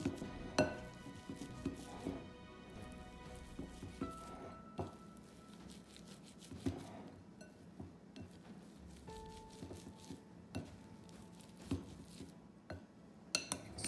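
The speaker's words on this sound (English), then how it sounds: "So the potatoes are now ready to mash. So I'm just going to use the masher." Boiled potatoes are mashed with a potato masher in a pot for vegan mashed potatoes. Soft, quiet squishing is punctuated by light metallic clinks and taps against the pot, close up, with no talking.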